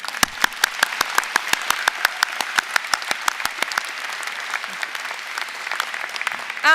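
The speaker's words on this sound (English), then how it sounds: "we deserve a really big round of applause simply for being here today on our graduation" A graduation audience gives a sustained round of applause, many hands clapping in a dense, fairly close patter that tapers off near the end.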